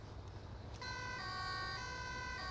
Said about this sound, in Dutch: En dan gaan we hier de sirene erop gooien.